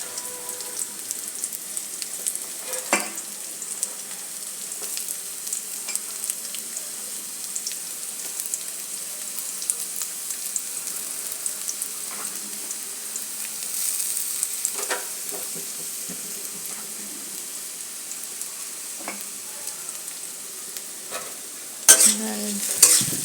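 Carrots stir-frying in a hot pan for egg chow mein: a steady close sizzle broken by scattered scrapes and clinks of a spatula, with a louder clatter near the end and no talking.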